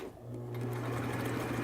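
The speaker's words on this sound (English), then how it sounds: "So you just line it up and sew a nice straight stitch." A sewing machine runs a straight stitch along a 3/8 inch seam while making a cap, a steady, quiet mechanical whirring hum that holds evenly for a couple of seconds.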